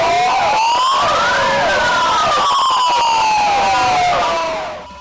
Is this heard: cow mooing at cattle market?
no